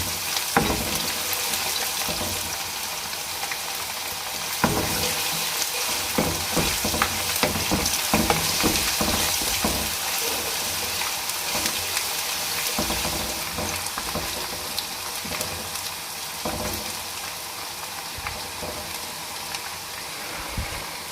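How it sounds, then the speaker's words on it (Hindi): Ginger and garam masala spices sizzle and fry steadily in a pan for chicken steak biryani, with stirring clatter and some running water; close, continuous, with no talking. "अदरक थोड़ी सी फ्राई होगी"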